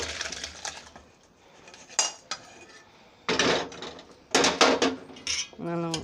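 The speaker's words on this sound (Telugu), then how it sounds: "పులుసుని గిన్నెలోకి తీసి చూపిస్తాను." A ladle scrapes and clinks against a metal pot and bowl as tamarind stew is served, with irregular close metallic knocks and scraping strokes, some quiet gaps between them.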